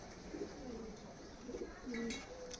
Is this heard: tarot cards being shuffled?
no